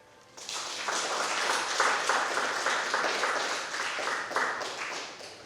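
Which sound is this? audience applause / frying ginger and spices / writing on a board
audience applause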